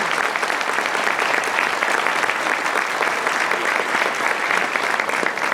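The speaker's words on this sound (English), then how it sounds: "One more round of applause for our team." An audience of parents and guests at a school semester concert applauds steadily, a dense, even wash of clapping sustained throughout without pause.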